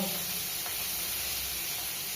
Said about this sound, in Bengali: পেঁয়াজ রসুনটা একটু ভাজা হবে